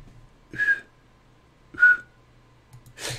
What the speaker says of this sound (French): Je pense que je vais devoir siffler.